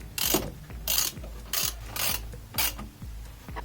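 A ratchet tightens 19 mm bolts on a BMW E30 brake caliper, giving six loud, evenly spaced clicking strokes up close, each a burst of rapid pawl clicks with short pauses between them.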